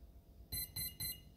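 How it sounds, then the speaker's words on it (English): Three short, high electronic beeps from a Skywalker 80A ESC in its setup menu, in a quick even rhythm, close and clear against a quiet background. "First beep, we're in the menu."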